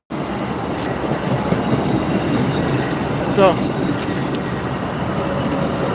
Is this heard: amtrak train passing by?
yes